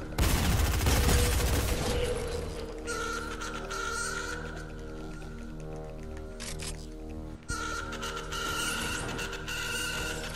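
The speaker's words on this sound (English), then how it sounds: "Is that you shooting?" Rapid bursts of gunfire from the video game Fortnite crackle almost continuously, dense and loud at the start, then sustained volleys with a brief gap, mixed with game sounds.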